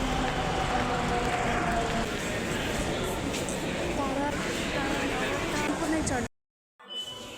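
Delhi metro train running loudly and steadily, a dense rumble with rail noise filling the clip, before cutting to silence near the end and a brief return of sound.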